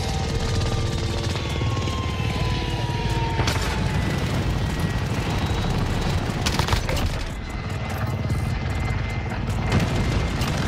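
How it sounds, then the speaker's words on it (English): A support helicopter arrives in a first-person shooter, its rotor roar steady and loud under dense battlefield noise, with bursts of gunfire and booms scattered through. "So I'm gonna go ahead and call the support helo one."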